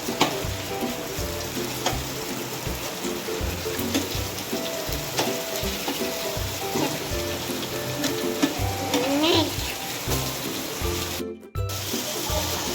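Chilapi fish fries in a pan after being flipped, a dense, loud, steady sizzle and spatter running throughout with a brief dip near the end.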